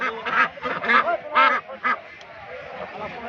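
Ducks at a village market, where ducks and geese are being sold, quack in several loud, nasal bursts close by, followed by quieter background noise.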